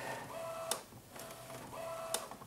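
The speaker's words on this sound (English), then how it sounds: "paper's coming through. I can see it going back into the printer at the back here" An Epson P700/P900 printer feeds thick art paper through the front feed, giving a steady mechanical whir with a tonal whine and three sharp clicks spaced evenly through it.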